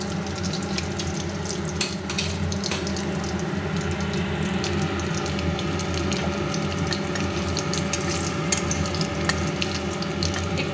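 Black cumin, cumin and green chili tempering in hot oil, a steady fine sizzle with scattered crackles and pops running unbroken, fairly quiet and close, with no talking.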